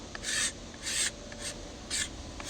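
A pocket knife scrapes the inside of a wooden self bow's limbs in four or five short rasping strokes, close and fairly quiet.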